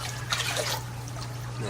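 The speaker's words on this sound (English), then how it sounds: "Nice clean incoming water coming through the boogie filter." Clean water trickles steadily through a filter into a hydroponic drip-system reservoir, a soft continuous splashing close by, with a low hum underneath.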